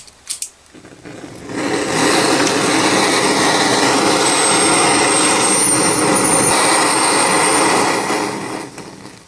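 A torch roars steadily as it heats a suspension pivot part on a 1954 Panhard Junior, a loud continuous hiss that swells in after a brief click and fades out at the end.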